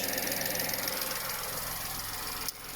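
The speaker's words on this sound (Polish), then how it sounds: "Autko sobie na razie pracuje" A 2012 Volkswagen Polo 1.2 MPI petrol engine idles close by with a steady, slightly pulsing hum and faint ticking, broken by a brief knock near the end.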